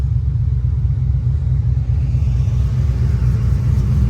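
A Corvette with a tuned small cam idles with a loud, steady low rumble, its lopey exhaust pulses continuous and close without any talking.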